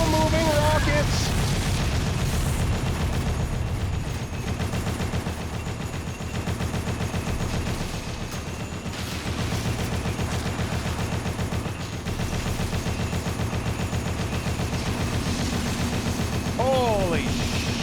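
Slow-moving rockets fire nonstop in a retro video game, a loud, dense barrage of rapid shots and booms that rolls on for the whole stretch, with a few chirpy electronic tones near the end.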